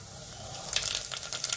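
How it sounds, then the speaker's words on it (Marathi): Cumin seeds and fennel hit heated oil for a tempering before prawn rice, giving a quiet close hiss that swells into brief crackling sputters partway through. "आपले तेल तापून झालेले आहे. फोडणीसाठी पहिले थोडं जिरं,"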